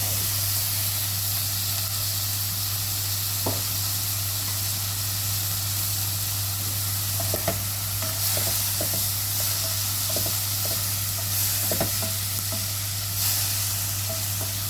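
Chicken liver sizzling and frying in a pan for a gisado, a steady broad hiss with occasional stirring clicks and scrapes, close and fairly loud with no talking.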